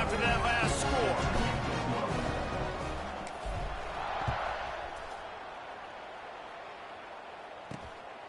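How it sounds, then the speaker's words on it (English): A football stadium crowd at a JMU vs Arkansas State game buzzes after a score, with a broad loud roar that slowly fades under steady play-by-play commentary. "this crowd is buzzing after that last score"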